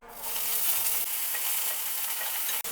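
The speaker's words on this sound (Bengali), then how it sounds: "এবার এই তেলের মধ্যেই দিয়ে দেবো কড়াইশুঁটি" Fresh green peas tipped into hot oil in a karahi for samosa filling set off a loud, continuous sizzle that lasts the whole moment with no pause.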